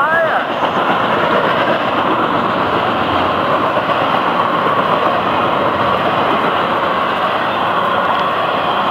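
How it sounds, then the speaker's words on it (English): A passing train rolls by in a loud, steady rush of wheels on rails, a continuous broadband roar that holds level through the whole stretch with a brief squeal near the start. "Now this hot train flashing on by."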